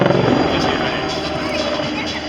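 A helicopter at an aerobatics world championship air show in Châteauroux drones loudly and steadily with a faint rotor flutter. Someone speaks over it throughout.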